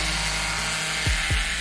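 H0 scale model railway track cleaner grinding over the rails, a steady close rasping hum with two brief sweeping whines near the end.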